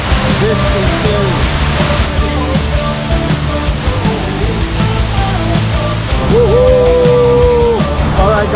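Waterfall in a Sri Lankan town, a dense steady roar of rushing water that holds at a constant level, heard up close with a voice faintly talking or calling beneath it.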